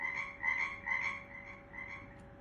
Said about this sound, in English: So, they sent me a frog.